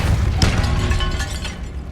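A Depulso spell blast goes off in a tomb in the video game Hogwarts Legacy: a loud, close booming burst with a sharp crack near the start, then a rumbling decay.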